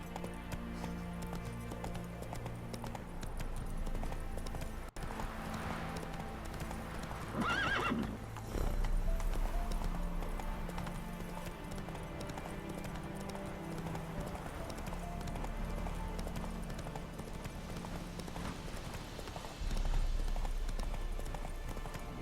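A horse in The Witcher 3 gallops with rapid, steady clip-clop hoofbeats and lets out a loud neigh partway through, over a constant game soundscape with no speech.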